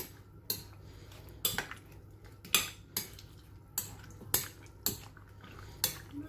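A spoon clinks rhythmically against a bowl while pineapple and apple salad with sauce is mixed, about one sharp metallic knock per second over a soft wet stirring.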